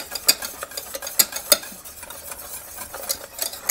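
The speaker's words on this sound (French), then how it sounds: "La crème épaissie, on ne cesse pas de mélanger." A whisk or spoon stirs thickened pastry cream for a Paris-Brest in a saucepan over heat, giving repeated close scraping strokes with a steady uneven rhythm, alone without talk.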